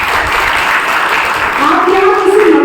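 An audience at a Hindi spiritual gathering claps in joy, a dense, steady wash of applause that fills the room, with a voice heard alongside it.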